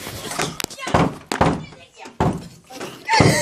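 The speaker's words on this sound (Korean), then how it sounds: "문을 닫겠습니다." A door shuts with a dull thunk, close by, amid several other knocks and bumps. Excited voices talk and laugh around it.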